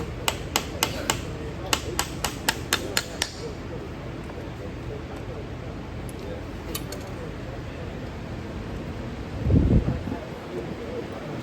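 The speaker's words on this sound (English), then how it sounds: "I'll usually kind of continue that process throughout nailing on an unclipped shoe" Nails being hammered into an unclipped horseshoe while shoeing a horse, a quick run of light, sharp taps followed by a few more later, set against steady outdoor wind and a brief low thump.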